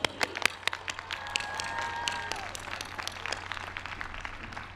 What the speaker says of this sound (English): So a round of applause for the class of 2016.